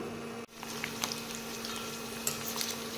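Soft, steady sizzle of leaves frying in hot mustard oil, with faint pops and crackles and a low hum underneath.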